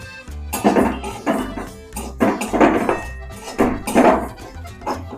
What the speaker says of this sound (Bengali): কড়াইতে কিন্তু এবার মুগ ডালটা একটু আমি ভেজে নেব মুগ ডালটা আমি দিয়ে দিলাম